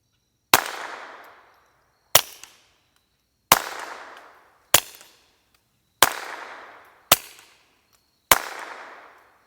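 Seven sharp, close gunshots from a .22 pistol fitted with a Banish 22K V2 suppressor, each a crisp crack with a short decaying tail, fired at uneven intervals of about one to two seconds with no talking.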